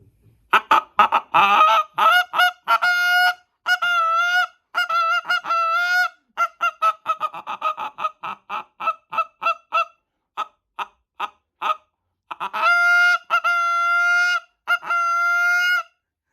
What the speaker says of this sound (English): Oh, that's a goose call.